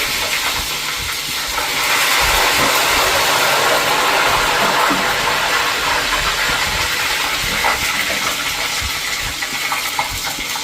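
Ghevar batter poured gradually into hot oil gives a continuous, loud bubbling sizzle with occasional small crackles across the whole stretch.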